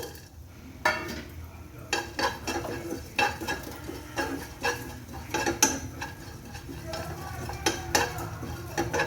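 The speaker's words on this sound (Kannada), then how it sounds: "ಇದನ್ನು ಫ್ರೈ ಮಾಡ್ಕೊಳ್ಳೋಣ. ಅದ್ರ ಜೊತೆಗೆ ಚಕ್ಕೆ, ಸ್ವಲ್ಪ ಮೆಣಸು" Cinnamon and pepper fried in a pan for horse gram saaru, with repeated metal utensil clinks and scrapes against the pan over a faint sizzle, close and fairly rhythmic.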